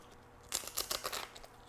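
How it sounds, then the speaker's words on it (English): Baked corn tortilla chips crunch in a few crisp, close bites over roughly a second, each snap bright and crackly, with no talking. "I hope you can hear that crunch."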